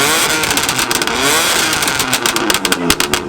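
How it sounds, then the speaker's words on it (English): A BMW M4 engine revs hard and loud at close range, a raspy roar that swells and surges with quick throttle blips and crackles toward the end, heard alone without talk. "you guys need to hear how loud this thing is. This is probably one of the loudest cars I've ever owned"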